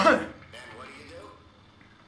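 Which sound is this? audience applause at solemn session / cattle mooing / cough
cough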